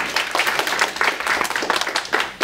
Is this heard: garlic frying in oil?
no